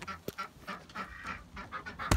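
Several ducks quack and honk in short bursts close by, a little chorus of fowl calls with a sharp knock at the end.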